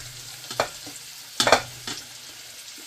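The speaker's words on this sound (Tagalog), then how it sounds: "Nauna na yung butter natin, magsasangkot siya na tayo. Inuuna ko muna yung bawang." Garlic and onion sauté in melted butter in a pan: a gentle background sizzle broken by several sharp spatula knocks and scrapes, with a cluster of quick stirring clatters in the middle.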